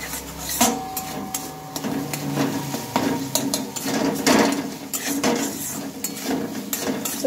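A spoon stirs and scrapes cauliflower with spices and chili powder in a dry pan, giving busy metallic clinks and scraping with a faint sizzle underneath, and no talk.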